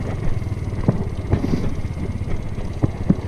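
A Harley V-twin motorcycle passes at a distance, a low, uneven engine rumble heard under steady wind noise on the microphone, with a few sharper knocks and pops along the way.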